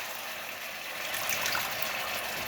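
Water running steadily into a cooking pot on a home stove, a continuous gushing pour that holds at an even level throughout with no talking over it.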